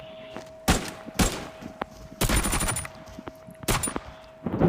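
AK rifle fire in the shooter game Arena Breakout comes in several short, sharp bursts separated by quieter gaps, fairly faint overall.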